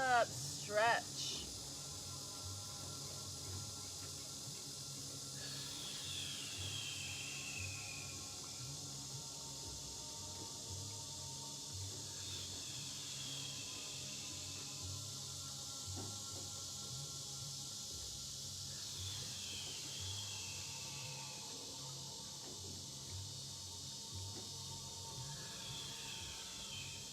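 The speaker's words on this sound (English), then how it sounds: "All the lotus cicadas are providing their own music for us" Lotus cicadas buzz steadily outdoors by the Suwannee River, a dense high-pitched drone with swelling pulses every few seconds, continuous throughout at moderate level.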